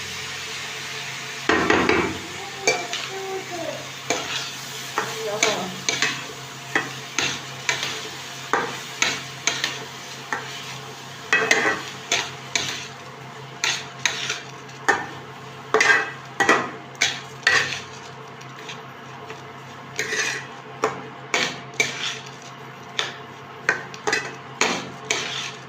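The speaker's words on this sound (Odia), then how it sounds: "ଚାଉଳ ଭାଜି" Rice is dry-fried in a pan for khichdi, with a steady stream of sharp scraping and clinking strokes from a spatula against the metal over a soft sizzle, in a quick, fairly regular rhythm.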